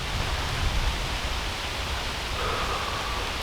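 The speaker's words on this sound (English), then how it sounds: "you're going to just kind of listen to the rain" Steady rainfall, a dense even hiss of drops with no distinct individual hits, continuous and unbroken throughout with no voices.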